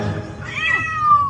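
A cat with a chili put in its mouth lets out a single drawn-out, rising then falling meow, close and clear over faint background noise.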